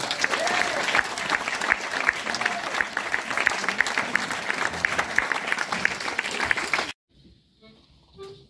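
An audience at a festival concert applauds, with loud, sustained clapping for about seven seconds before it cuts off into near silence with faint sounds.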